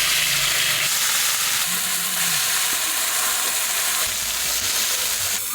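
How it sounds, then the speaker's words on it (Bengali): Radish greens hit hot mustard oil with cumin in a wok, giving a loud, dense, continuous sizzle and hiss, close up, with faint stirring underneath and no talking. "কড়াই গরম হয়ে গেছে, দেবো সর্ষের তেল, দেব জিরে, আর কেটে ধুয়ে রাখা শাক"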